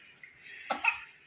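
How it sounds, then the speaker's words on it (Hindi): A single short cough from a child, close and fairly quiet, with a brief rough burst and no talking. "अरे खांसी आ गया"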